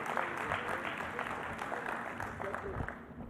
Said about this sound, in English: Let's give that a round of applause, ladies and gentlemen.